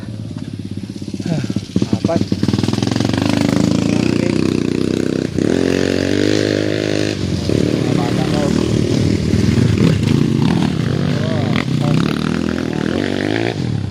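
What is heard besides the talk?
motorcycles riding through mud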